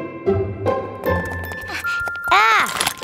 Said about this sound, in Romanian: Iată, aici este clopoțelul tău.